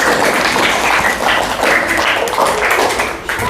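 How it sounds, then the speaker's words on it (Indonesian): A group of people applauding a student team that has just finished its presentation in a classroom or training session, steady dense clapping throughout at close range with no talking. "tepuk tangan dong buat kelompok 2"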